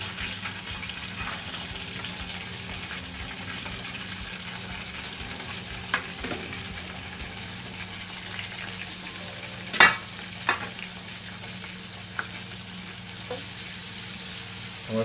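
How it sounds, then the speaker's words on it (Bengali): Pieces of KFC-style battered chicken fry in hot oil with a steady, low-level sizzle and bubbling, broken by a few brief clinks and scrapes as the pieces are moved. "আমার সবগুলি মোটামুটি প্রায় ভাজা শেষের দিকে।"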